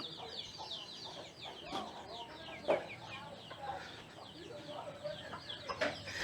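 Fighting cocks cluck and chatter throughout, a busy flock sound with occasional louder squawks, fairly close and continuous.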